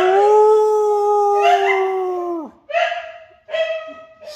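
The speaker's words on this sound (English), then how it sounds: "Howling." A dog howls up close, a long rising-and-falling wail that drops off, followed by two shorter howls with brief gaps between them.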